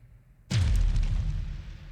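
An explosion in a fantasy role-play story, a single sudden deep boom that bursts in after a low rumble and rolls on with heavy, dense rumbling debris, loud and close, with no voices.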